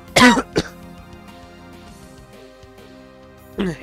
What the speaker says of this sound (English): It's a type of cough where I just finally feel like I've got something in my throat